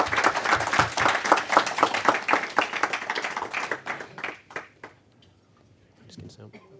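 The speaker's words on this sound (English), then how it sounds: "Round of applause." Applause and clapping from a meetup audience at a JavaScript talk, a dense burst of claps that thins out and fades after about five seconds, with a few scattered claps near the end.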